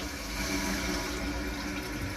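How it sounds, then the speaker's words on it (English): Water rushes steadily into a toilet with a Kohler canister flush valve after the supply is turned back on, a continuous close hiss and gurgle of filling with no talking. "Turn the water back on."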